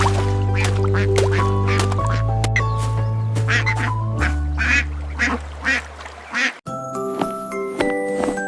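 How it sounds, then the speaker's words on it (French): A duck quacks in short repeated calls over a bright children's nursery-rhyme melody, the music playing loudly throughout. "Le canard vient de crier"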